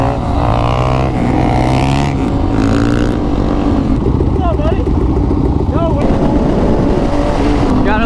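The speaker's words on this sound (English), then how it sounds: "Gotta love the ZX10 wheelies." Kawasaki ZX10 motorcycle engine revving hard through wheelies at a supermoto gathering, a loud continuous roar with rising and falling pitch, buffeted by wind noise, with voices talking over it.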